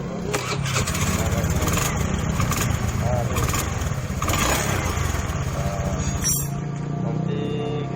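A Honda Beat FI fuel-injected scooter engine, known for stumbling when the throttle opens, runs steadily up close with a constant buzzing idle and slight uneven flutters throughout.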